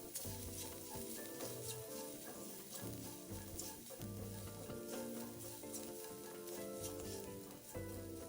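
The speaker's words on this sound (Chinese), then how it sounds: "再将虾米炒至溢出香气。 这时候将蒜末也加进来。" Dried shrimp and minced garlic stir-fried in a wok, giving a continuous crackling sizzle with scraping stirs, heard under background music.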